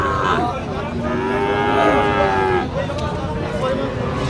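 A Sahiwal cow moos with a long, low drawn-out call, close by, amid faint background noise and murmuring voices at a cattle market.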